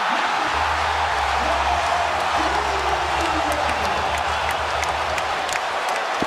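A basketball arena crowd at a Knicks game roars and cheers steadily, a broad, dense wash of voices and applause with a low rumble underneath, sustained at a loud, even level throughout.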